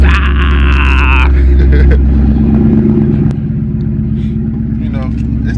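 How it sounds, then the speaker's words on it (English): Ford Mustang 5.0 Coyote V8 with exhaust cutouts open gives a loud, deep rumble that swells briefly, then settles into a lower idle while a person talks over it. "the car screams when you want it to"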